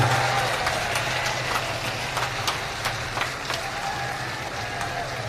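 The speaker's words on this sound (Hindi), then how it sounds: "दोनों हाथ उठा करके जोरदार ताली बजा करके मान्य बहन जी का स्वागत करने का काम करें" Crowd at a large outdoor political rally applauding, sustained scattered clapping from many hands with a steady background hum, moderately distant and continuous throughout without talking.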